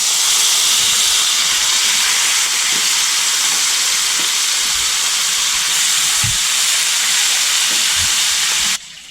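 Vegetables added to browned meat in a thick-bottomed pan give a loud, continuous, even sizzle that holds steady throughout and drops slightly at the very end.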